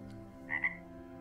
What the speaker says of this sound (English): He's a frog.